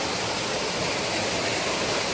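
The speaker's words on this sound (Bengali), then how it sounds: "তো আমি ঝর্ণার কাছাকাছি চলে আসছি।" Waterfall at Fakir Murong falls in Bangladesh, a steady broadband rush of falling water that fills the whole clip without pause, close and loud with no voices.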